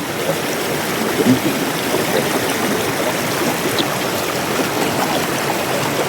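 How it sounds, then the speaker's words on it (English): Water rushing steadily in a snowmelt stream on a long-distance hiking trail as someone wades across, a continuous close wash of flowing water with faint splashing and no talk. "when the snow melts, these stream crossings are a little deeper"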